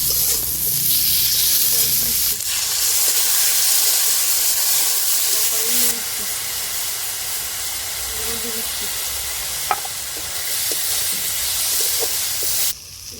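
Ginger-garlic paste hits a pan of frying potatoes and onions with a loud, steady hiss and sizzle, the steam noise continuing strongly throughout, with a sharp break near the end.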